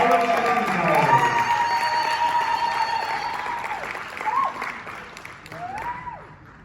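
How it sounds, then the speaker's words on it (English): Audience applause fills a community awareness dinner hall, a steady broad patter that fades slightly toward the end while a voice speaks over it, with some sustained tonal sound drifting through. "a big round of applause for Cola Shipping Tower"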